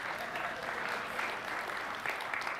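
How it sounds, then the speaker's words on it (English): Dense, steady audience clapping fills a tech conference hall during a cloud computing demo, alone and moderately loud. "I think that was the Mesosphere's guys clapping."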